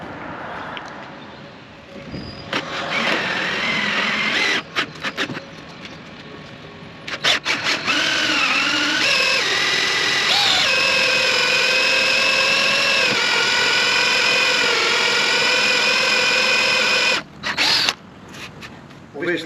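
A power drill with a cone-shaped bit cuts a large hole for a sink inside a Sprinter van, a whining buzz that starts and stops in short bursts before running steadily, close by, with a little talk around it.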